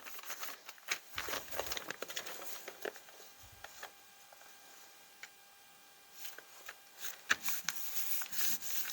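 Kraft paper bag pressed and rubbed onto a paint-covered gel printing plate, giving soft intermittent pats and papery rustles with brief low thumps, close and faint, with no talk.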